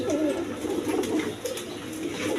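Many pigeons kept together in a shop coo in overlapping, continuous murmuring calls, close and moderately loud.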